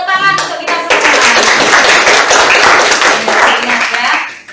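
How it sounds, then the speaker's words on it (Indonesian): A classroom of students claps hands together in applause, a dense burst of loud, sharp claps lasting several seconds before tapering off, with a teacher's voice briefly heard at the start. "Ya tepuk tangan untuk kita semua."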